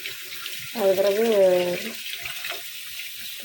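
Water from a kitchen tap running for about a second as someone fills a vessel to cool fried puris, with someone speaking briefly.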